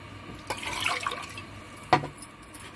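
Tamarind water poured into a boiling, spicy horse gram and greens curry, giving a wet splash and a brief sharper splash a moment later over a soft steady simmer, close up and fairly quiet.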